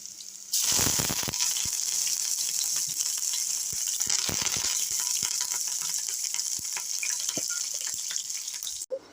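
Crushed garlic cloves and curry leaves drop into hot oil for a mutton kuzhambu with drumstick and radish, setting off a sudden loud, steady sizzle with crackling pops that runs on close and unbroken until it cuts off.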